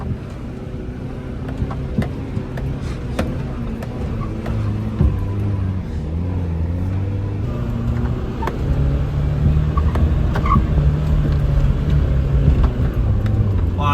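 A Mitsubishi Pajero Mini kei truck grinds uphill off-road on slickrock, its small engine droning and shifting pitch under load amid wind buffeting and occasional knocks and bumps.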